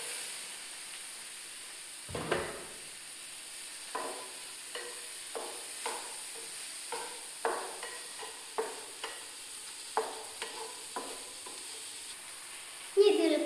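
Tomato dropped into hot noodle oil with nearly cooked onion in a pan sizzles steadily, while a spatula scrapes and taps the pan in regular, evenly spaced strokes.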